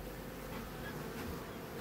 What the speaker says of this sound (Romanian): Albinuța, uite așa, stă pe aici, la perdea.